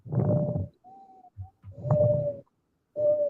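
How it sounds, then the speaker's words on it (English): Pigeons cooing outdoors nearby, several low rounded coos in a short rhythmic sequence with brief pauses between them, clear and fairly close. "Those pigeons that are out here. Those are pigeons."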